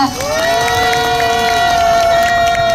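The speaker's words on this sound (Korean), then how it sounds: "노래 공연해주신 두 분께 다시 한번 큰 박수 부탁드리겠습니다." At an outdoor candlelight rally and memorial cultural event, a crowd cheers and claps for two singers, loud and continuous, with a sustained ringing tone held clearly over the crowd noise throughout.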